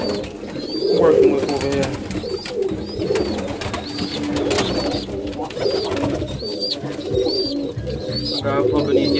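Pigeons coo repeatedly inside a breeding loft, including Budapest birds, the soft rolling calls recurring throughout alongside shuffling and ambient noise while someone talks over them.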